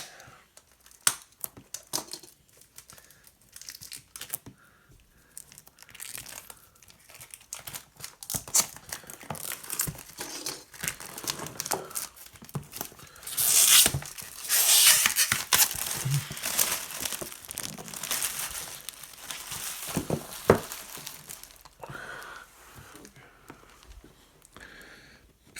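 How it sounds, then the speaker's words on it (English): Plastic shrink wrap crinkles and tears off a new I.A.F. Leader board game box, a long run of close crackling and rustling that swells to its densest about midway, with no talking over it. "we're going to open it up and see what's inside"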